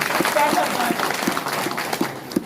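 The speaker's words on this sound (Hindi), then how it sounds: "एक बार अपने लिए जोरदार ताली बजा लीजिए" Audience clapping loudly in a town hall in Banka, Bihar, a sustained crowd patter with scattered sharper claps and a few whistles, a voice briefly audible under it.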